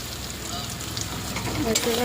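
Spices sizzle and fry in a hot pan while being stirred, a steady close crackle with soft scraping, after red chilli, coriander and cumin powders go in; no talk.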